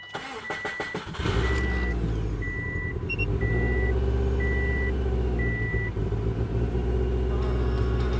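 A Subaru engine, an Impreza WRX STi, Legacy or Forester fitted with an air/oil separator, cranks and catches about a second in, then settles into a loud, steady idle rumble with a repeating beep above it.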